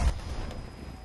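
A single heavy gunshot booms from a weapon in Battlefield 2042, loud and close, its low rumble quickly trailing off.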